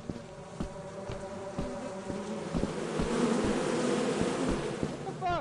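A swarm of bees drones continuously in a video game, a dense buzzing that swells louder midway with clicks and impacts scattered through it.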